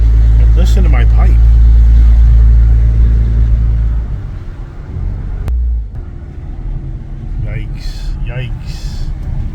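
A Ram Mega Cab pickup's exhaust gives a deep, loud low rumble that swells for a few seconds and then eases back, with a voice talking over it.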